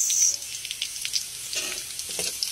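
Kangkong (water spinach) being sautéed in a pan, a steady close sizzle with stirring and tossing scrapes throughout, loudest at the start.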